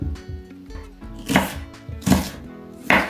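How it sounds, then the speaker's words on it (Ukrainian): A knife chops an onion on a cutting board in a few sharp, uneven strokes, close and crisp, with no talking. "Тепер наріжу цибульку."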